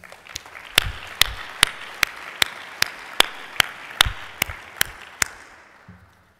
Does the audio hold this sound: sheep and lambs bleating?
no